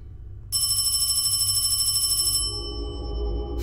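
A telephone rings inside the Hong Kong paranormal horror game, sounding as one bright, continuous electronic ring for about two seconds over a low ambient rumble, then stopping.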